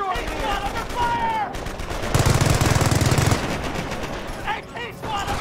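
Machine-gun fire aimed at an anti-tank squad in the strategy game Company of Heroes, a loud rapid burst of about a second amid scattered shots and battle noise, with voices shouting between the firing.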